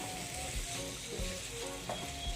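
Ripe tomatoes cook in a pan, a steady close sizzle with soft spoon stirs and light scraping knocks every half second or so, no voices.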